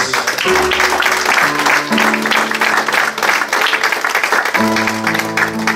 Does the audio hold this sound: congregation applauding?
yes